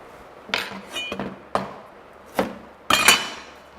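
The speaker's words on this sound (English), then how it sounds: "a teaspoon or anything blunt is great for peeling. So just scrape, scrape, scrape, scrape, scrape." Teaspoon scraping the peel off ginger, five short separate scrapes and clinks at an irregular rhythm, close and fairly quiet, with no talking.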